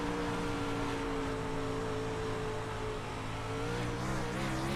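A race car engine on a dry slick dirt track, held at partial throttle through a corner, drones with a steady rumbling note that rises and falls slightly as the driver rolls in and out of the throttle; no speech.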